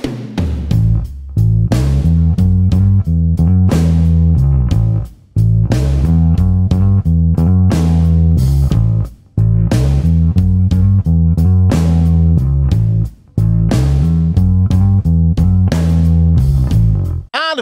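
An electric bass guitar plays a full, slow 12-bar blues pattern with hammer-ons. The low notes are loud and close and move continuously in a steady groove, with only brief breaks between phrases and no voices.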